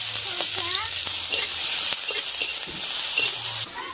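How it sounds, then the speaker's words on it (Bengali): Chopped onions sizzle and crackle in hot oil in a pan for a spicy chicken curry, a steady close frying hiss with scattered pops and a few faint metallic touches throughout. "তেলটা গরম হয়ে গেছে,"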